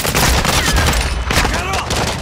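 Rapid handgun fire mixed with other gunshots in Call of Duty: Modern Warfare II, loud and close, running through the whole moment with a player talking over it.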